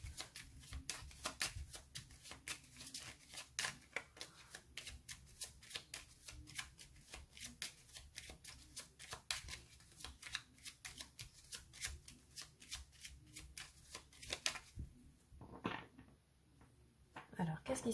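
Petit Lenormand fortune-telling cards shuffle in a long, steady run of soft, rapid riffles and flicks, close and quiet, ending in a few brief handling sounds.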